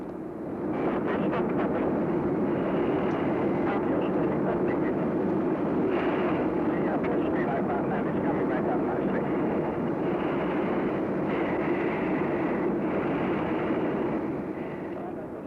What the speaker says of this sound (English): For the fast, low-flying jet, lakes and fells offer the ideal contours